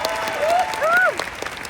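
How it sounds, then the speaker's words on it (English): Applause from a convention audience in a large arena, a dense continuous wash of clapping with a few whoops and whistles rising over it. "give her a round of applause"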